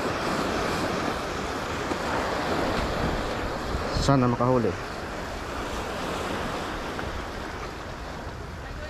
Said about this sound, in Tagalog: Hindi naman siya masyadong kalma, may konting alon.